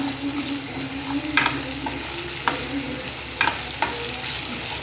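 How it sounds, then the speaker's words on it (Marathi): Masala for fish curry frying in oil in a pan, a steady close sizzle broken by several sharp scrapes and knocks of a spoon stirring it, with no talking. "हा मसाला चांगला परतून घ्यायचा।"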